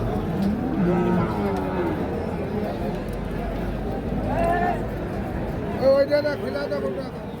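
Sahiwal cattle moo at a busy cattle market, with a few drawn-out calls rising over constant crowd chatter and nearby voices.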